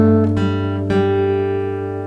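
Acoustic guitar plucked with thumb and index finger picks the intro of a song around an open G, a few clear struck notes ringing out and sustaining, close and alone.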